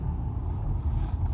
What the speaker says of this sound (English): So again, we're still driving.